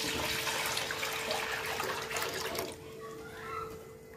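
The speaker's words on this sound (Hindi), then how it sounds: "और अब हम डालेंगे इसमें हमारा 3 लीटर दूध।" Three liters of milk pouring into a pot of boiling water for homemade milk cake, a steady rushing splash that fills the kitchen, then drops to a quieter bubbling as the pour ends.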